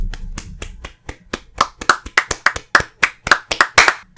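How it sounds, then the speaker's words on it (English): Hands clap in a steady run of sharp, loud claps, starting softer and growing stronger and more regular, alone with no talking. "You weren't clapping loud enough at home."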